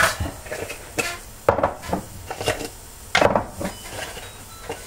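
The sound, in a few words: taking lids off oatmeal jars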